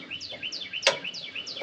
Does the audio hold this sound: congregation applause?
no